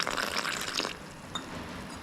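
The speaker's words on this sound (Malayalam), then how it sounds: "അപ്പോൾ നമുക്ക് ഈ അരിപ്പൊടിയിലേക്ക് കുറച്ച് വെള്ളം ഒഴിച്ചിട്ട് മിക്സ് ചെയ്ത് കൊടുക്കാം" Water trickles and splashes into rice flour for about a second, then stops, leaving faint quiet background with a small tap.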